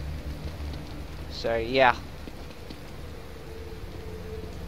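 Steady rain falls in the video game The Evil Within, a constant hiss underneath a brief spoken remark.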